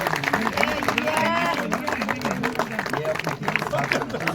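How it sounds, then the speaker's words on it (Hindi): Loud audience applause fills a Sindhi literary program in Ladakh, a dense steady clatter of clapping that holds for the whole stretch alongside tonal voices or music. "जोरदार तालियां"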